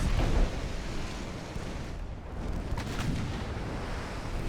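Main battery naval guns in Ultimate Admiral Dreadnoughts fire with a deep rumbling boom that swells into a long roaring wash of sound, heavy and sustained, with no voices.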